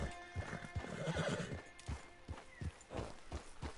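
Horse in the video game Red Dead Redemption 2 whinnies loudly, then clip-clops along in a steady, close rhythm of hoof strikes without any talk over it.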